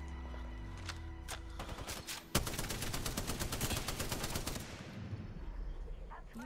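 Rapid automatic gunfire in the game Apex Legends, a long continuous burst of close, loud shots after a few single reports, then trailing off.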